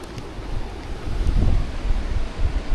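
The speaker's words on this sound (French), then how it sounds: "Mais là j'entends la mer." Steady roar of sea surf on a pebble beach at Côn Đảo, with a swelling rush in the middle, mixed with wind buffeting the microphone; no voices.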